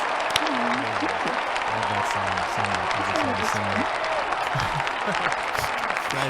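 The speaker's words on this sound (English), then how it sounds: "Guys, please give Janelle a big round of applause for that one, please." An audience applauds after a song, with sustained clapping and cheering that stays loud and dense throughout while a voice speaks over it.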